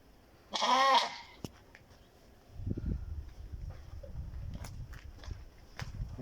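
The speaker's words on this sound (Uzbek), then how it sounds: "Bu yerda qo'ylar oziqlanyapti." Sheep feeding up close: a single bleat at the start, then steady chewing and munching with soft shuffling movement.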